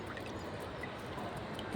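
Rainwater pouring and splashing steadily nearby, a continuous gurgling flow overflowing from a water tank during a storm in Kodaikanal, with no talking.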